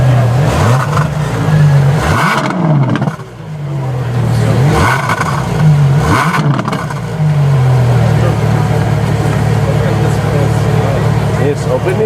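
A Ferrari LaFerrari engine revs hard in repeated loud bursts, each one climbing and then falling away, before it settles into a steady, strong drone close by. Someone speaks over the engine noise.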